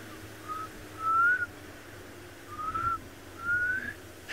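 A person whistles short rising notes imitating a bird call, four separate whistles spread with gaps between them, moderately loud over a quiet background.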